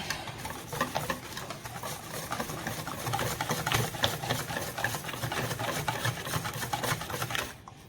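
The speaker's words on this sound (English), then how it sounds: "You can use a mixer if you like. I'm just using my whisk." A hand whisk beats Kenyan-style pancake batter in a bowl, making fast, continuous rhythmic clicking and scraping that holds steady throughout and stops abruptly at the end.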